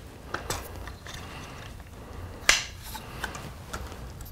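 A Trigger Stick Apex carbon fiber tripod is adjusted, producing a few soft, isolated clicks and one sharper snap against a quiet background, with no talking.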